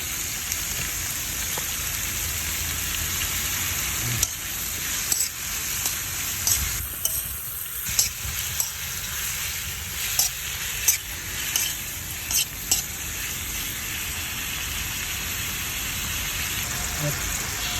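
Tomatoes tossed into sautéing onions in a pan give a steady, hissing sizzle, with a string of light stirring scrapes and knocks in the middle of the stretch.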